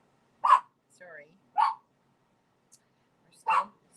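Three sharp, short barks from a pet dog named Rosie, a female, spaced out over a few seconds, near and fairly loud, with a soft whine-like sound in between.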